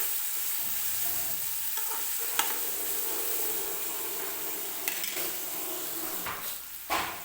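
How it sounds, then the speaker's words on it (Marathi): Chopped onions fry in hot oil toward golden while a spoon stirs them, making a soft continuous sizzle broken by scraping strokes and a few sharp clinks against the pan, close by. "व्यवस्थित कांदा जो आहे तो गोल्डन रंग येईपर्यंत तेलामध्ये फ्राय"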